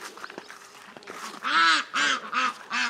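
Several ducks quack loudly nearby in a quick series of four harsh calls, following softer scattered noises.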